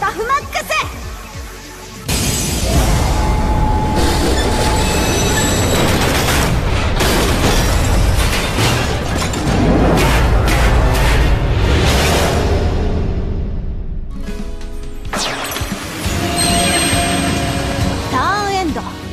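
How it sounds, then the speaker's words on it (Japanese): In the Yu-Gi-Oh Duel Links video game, summoning the Superdreadnought Rail Cannon Gustav Max brings a loud, sustained rumble of booms and blasts. It starts suddenly, fades toward the end, then swells again, with a voice calling out at the start. "現れろ、超ド級砲塔列車グスタフマックス。"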